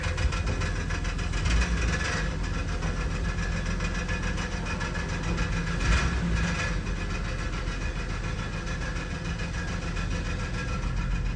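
A Nissan Xterra engine idling rough with a misfire, a steady, continuous mechanical drone that stays close and even throughout with no talk over it.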